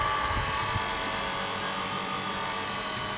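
An AC motor on a speed-control trainer runs at a uniform speed, producing a steady, even hum with electrical whine that stays constant throughout.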